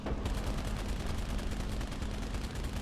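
Rapid, continuous bursts of 23 mm cannon fire in an aerial combat video game, a dense rumbling rattle that stays loud and steady, with no talking.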